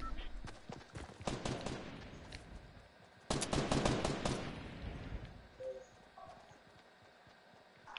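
Fortnite gunfire comes in two loud rapid bursts of repeated shots, separated by quieter stretches, with faint game sounds trailing off afterward.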